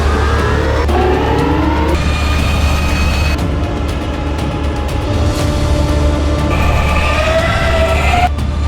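The F99 Indian electric superbike accelerates away with a loud, rising electric whine that climbs in pitch several times in succession over a steady roar.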